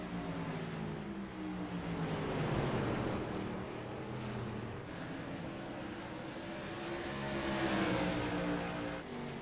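Modified race cars lap the track at New Smyrna, their engines a steady, fairly distant drone that swells and fades in pitch as they pass, with no voices over it.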